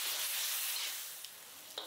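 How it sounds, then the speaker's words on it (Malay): Onion, garlic, curry powder, chili powder and palm sugar sautéing in oil for a Malaysian mackerel curry, a steady bright sizzle that eases slightly, with a couple of small stirring clicks near the end. "Kemudian kita tumis semua bahan ni hingga pecah minyak."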